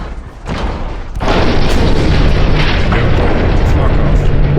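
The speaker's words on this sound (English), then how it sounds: "Just use the battleship as a battering ram." Battleship ramming an enemy ship in the naval game Ultimate Admiral Dreadnoughts, a loud crashing boom that swells into a sustained roaring rumble of impact and explosion noise, with a voice talking over it.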